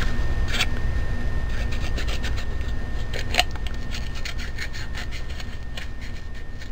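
Scissors snip repeatedly through paper card pieces for a handmade Paris-themed art card, a close series of short crisp cuts over steady background hiss, with no talking.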